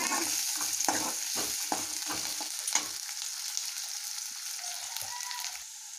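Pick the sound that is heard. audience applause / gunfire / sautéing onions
sautéing onions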